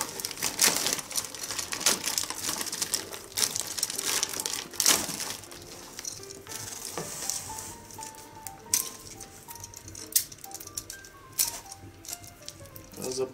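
Cellophane wrapping crinkles and crackles loudly in bursts as it is torn off a new replacement Toyota cooling radiator, with rustling handling sounds throughout and no talking.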